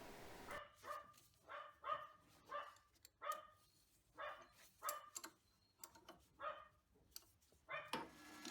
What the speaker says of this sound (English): Sorry about the barking in the background.